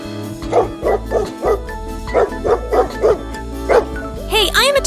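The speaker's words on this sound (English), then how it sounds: "Hey, I am a dog." A dog barks in a quick run of about a dozen regular, close, loud woofs, the barks sitting over music in the background.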